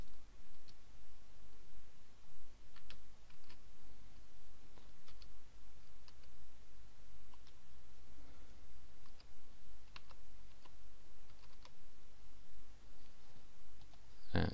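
Someone types on a computer keyboard, producing a steady run of light, quiet key clicks with small pauses between bursts, heard alone without speech.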